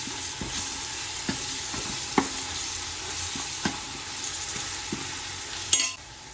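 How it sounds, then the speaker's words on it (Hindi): Ginger garlic paste fries in hot oil with a steady low sizzle, broken by occasional scrapes and taps of a stirring spoon against the pan. "अब डालेंगे अदरक लहसुन का पेस्ट 1 चम्मच और इसको भी अच्छे से तेल में फ्राई कर देंगे।"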